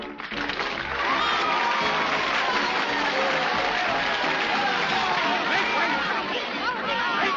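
A theatre audience in a 1941 British comedy film cheers and applauds, with dense clapping and many overlapping excited voices swelling quickly and holding steady at a moderate distance.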